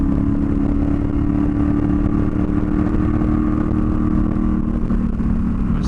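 Triumph Tiger motorcycles riding on a bitumen road, a steady, continuous engine drone with strong low rumble and wind noise, close and loud throughout without pauses.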